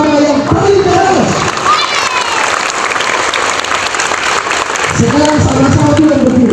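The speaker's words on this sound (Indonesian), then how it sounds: "Tepuk tangan sama-sama yang paling keras." Schoolchildren at an elementary school clap hard and cheer together, a loud, dense roar of applause with shrill shouting voices rising over it at the start and again near the end.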